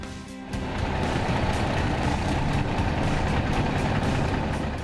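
A Class 8 truck's heavy engine pulls away on a test drive after a tire pressure monitoring install, rising quickly into a loud, steady, close diesel rumble.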